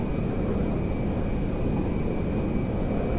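An Airbus Beluga cargo airplane flies in GTA 5, its engines giving a continuous, loud, broadband roar with a steady tonal whine running through it and no pauses.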